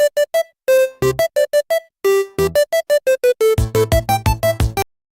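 A bright, bouncy electronic melody of short staccato notes, joined halfway through by a steady low beat, loud and clear with no voices.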